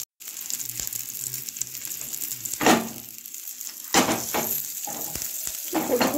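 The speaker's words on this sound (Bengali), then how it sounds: "দেখো ফোড়নটা দিয়ে দেবো হচ্ছে কুকারের মধ্যে" A tempering of green chilli, panch phoron and a little turmeric sizzles in hot oil inside a pressure cooker, with a crackling fry punctuated by a few sharp bursts and clatters close by, no talk.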